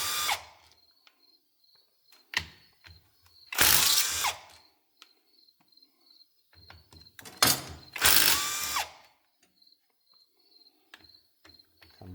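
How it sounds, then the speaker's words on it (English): A ratchet with a 12 mm socket backing bolts out of a John Deere 425/445/455 mower, heard as two loud bursts of rapid clicking between softer taps and clanks, up close and without talk. "we're going to take these bolts out around the perimeter"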